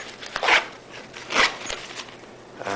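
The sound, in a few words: zipper opening on a pouch pocket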